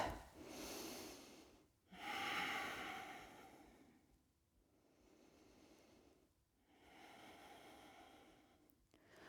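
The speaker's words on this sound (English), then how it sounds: "maybe engaging your oceanic breath" Slow oceanic ujjayi breathing during a vinyasa yoga flow: quiet, close, drawn-out airy inhales and exhales in three or four long waves separated by brief pauses.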